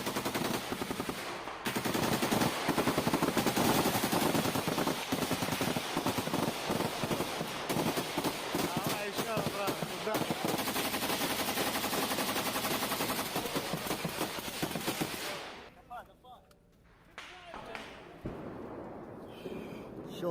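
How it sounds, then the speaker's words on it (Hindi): Heavy gunfire in Jenin, West Bank: dense, loud machine-gun bursts rattle almost without pause for about fifteen seconds, then break off into quieter scattered sounds and faint voices. "यहूदिया और सामरिया में यह भारी फायरिंग की तस्वीर सामने आई है"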